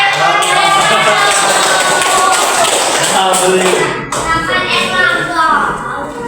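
A classroom of primary schoolchildren claps and cheers, loud and busy for several seconds, then thins out. Children's voices chatter over the clapping.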